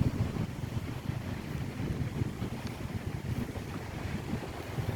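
Gulf of Mexico waves splashing and crashing on a beach near the dunes, a steady low wash of surf with wind rushing over the microphone, fairly faint and continuous without voices.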